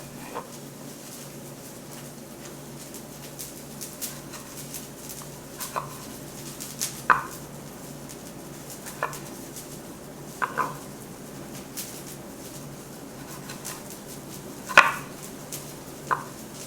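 A knife cuts tomatoes into quarters on a cutting board while spaghetti sauce is being made, with soft, sparse thuds spaced a second or two apart over a quiet room.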